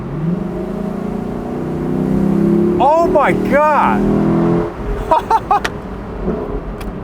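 A 2021 Lexus LC500 Convertible engine revs up loudly in sport mode outdoors amid wind noise, with a brief excited exclamation and a few short sharp bursts near the end.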